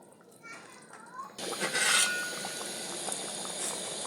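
Fish pieces are dropped one by one into a thin curry of papaya and ridge gourd boiling in a pot. Quiet bubbling swells into a louder, continuous boil with splashy bursts partway through.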